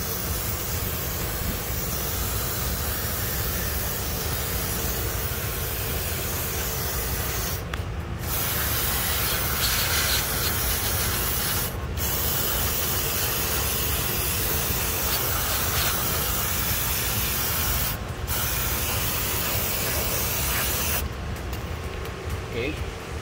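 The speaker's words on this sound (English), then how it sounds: "I'm gonna spray this portion with contact cleaner." Contact cleaner sprays from an aerosol can onto a leaking hydraulic part of a turret truck, a continuous loud close hiss that runs through most of the stretch with a few brief pauses.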